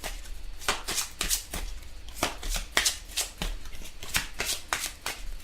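Tarot cards being shuffled by hand, a series of crisp riffling bursts and soft slaps repeating at a steady pace, close and fairly quiet, with no talking over it.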